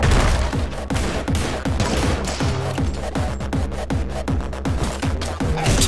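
Rapid bursts of gunfire from the video game Anger Foot, with a grenade being shot, packed into a dense, loud, nearly continuous volley of sharp cracks and thumps with no talking.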